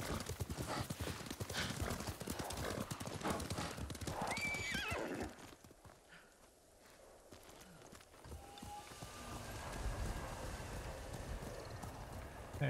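Rapid clip-clop of galloping horse hooves with a neigh in the video game Ghost of Tsushima, loud at first, then fading into quieter ambience before picking up again.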